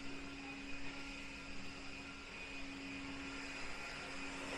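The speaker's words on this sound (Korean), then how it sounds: "저렇게 청소기를 갖고 마당을 쓸고 있습니다" A vacuum-type cleaning machine sweeping the courtyard at Bulguksa Temple in Gyeongju gives off a steady, droning motor whine with a constant hum, moderately distant and continuous throughout.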